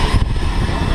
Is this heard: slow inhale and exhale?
no